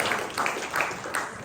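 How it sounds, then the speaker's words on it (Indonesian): A church congregation applauding, a steady broad patter of many hands clapping at moderate distance with no talk over it. "Tepuk tangan untuk Tuhan."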